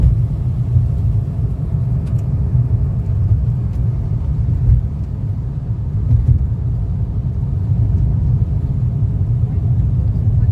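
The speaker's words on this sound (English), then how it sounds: "I'm still getting an engine sound inside" A low, steady engine rumble heard from inside a car, continuous and fairly loud, with faint murmuring voices now and then.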